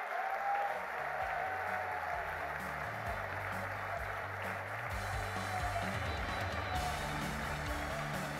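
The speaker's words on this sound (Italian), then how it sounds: "facciamo un bel applauso al gruppo NFD in Europa." A conference audience at a political convention applauds in an even, continuous wash of clapping that stays quite faint and distant throughout, without clear cheering.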